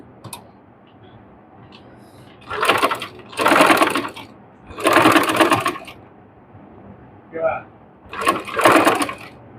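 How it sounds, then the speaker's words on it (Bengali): Sewing machine running top-stitching along the facing edge of a dress neckline, in several short bursts of a few seconds each with pauses between, close and fairly loud. "সম্পূর্ণটা একটা চাপ সেলাই দিয়ে নেব"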